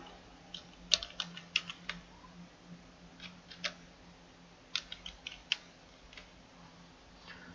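Quiet, irregular clicking of computer keyboard keys as text is typed in a design program, with short bursts of taps and pauses between them, alone without speech.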